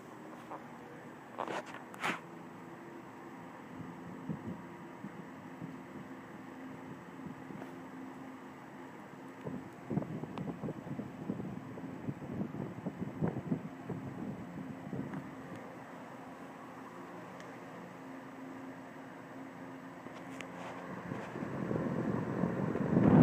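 A 12-inch General Electric Vortalex electric fan runs at medium speed with a steady, soft, airy whoosh and low hum, and a few knocks and handling rattles midway before the airflow grows louder at the end.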